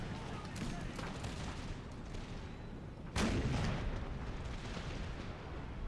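Musket volleys and artillery roll across an Empire: Total War battlefield as a dense, distant rumble of crackling fire, with one sharper, louder blast midway. A voice talks over the battle.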